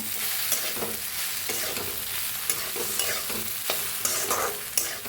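Okra with green chili, garlic and crushed roasted peanuts is stir-fried in a pan, giving a steady close sizzle broken by repeated scraping stirs.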